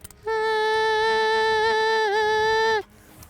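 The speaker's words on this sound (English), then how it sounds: "blowing a short reed, the most important part is getting this little buzz." A short reed goose call blown in one sustained, steady buzzing note of nearly two and a half seconds, rich in stacked harmonics, with a slight wobble near the end before it stops abruptly.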